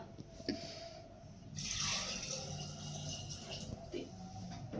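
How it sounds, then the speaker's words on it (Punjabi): Water pours and splashes into a butter churn for a few seconds amid faint background noise, with brief clinks before and after. "ਮਧਾਣੀ ਤੇ ਪਾਣੀ ਪਾ ਦਈਏ ਜੀ ਥੋੜਾ"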